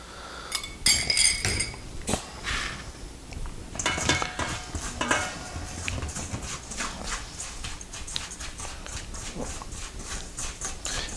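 Cookie crumbs, sugar and melted butter are mixed in a bowl, giving rapid, rhythmic clinks and scrapes of a utensil against the dish that are close and fairly loud, with no talking.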